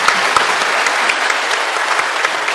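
Steady, loud applause from a gathered crowd, dense continuous clapping with a few sharper individual claps standing out throughout.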